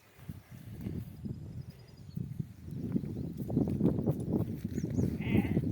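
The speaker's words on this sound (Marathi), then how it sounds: "हे आपले छोटे कोकरं सकाळचं खाद्य खायला बाहेर काढतो" Several lambs being let out for their morning feed bleat in overlapping, thin cries over a low rumbling background, some close and others farther off.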